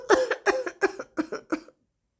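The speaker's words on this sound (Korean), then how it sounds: "어머니의 기침 소리에" An elderly mother coughs in a folk-tale setting, a short run of five or six dry, hacking coughs in close, clear succession, then silence.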